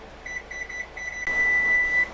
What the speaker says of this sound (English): now that the timer has gone off